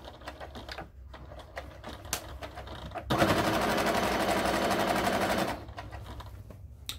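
One continuous, loud mechanical whir of a sewing machine running along a seam around a fabric Cricut cover, lasting a couple of seconds and framed by quieter handling noise before and after.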